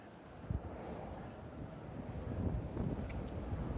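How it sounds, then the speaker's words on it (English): Wind blowing on the Las Vegas Strip, a steady, loud rumbling roar buffeting the microphone throughout, with no one talking. "Oh, there's the wind."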